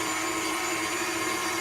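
An electric mixer with a whisk attachment beats a lime mold mixture, its motor holding a constant, close whirring drone with no pauses.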